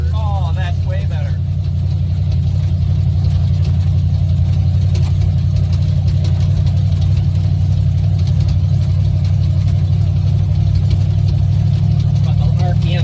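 A car engine runs at low RPM with a deep, steady hum that stays even throughout, close and loud, while people talk over it.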